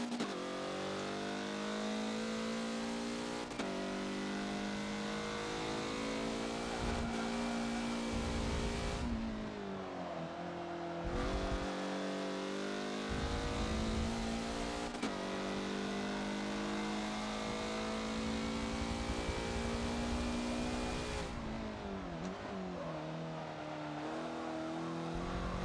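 A race car in the video game Forza accelerates hard out of the hairpin at Suzuka West, its engine rising in pitch through several upshifts in a loud, sustained scream with brief dips between gears.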